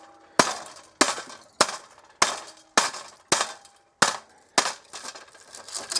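A hammer strikes an aluminum-finned copper air conditioner coil, stripping the aluminum off in about nine loud, sharp metallic whacks at a steady pace roughly every half second to second, with no talk.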